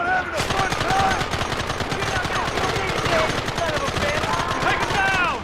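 Continuous rapid gunfire from the video game Red Dead Redemption, loud, dense machine-gun bursts with repeated shots throughout and shouting voices mixed in.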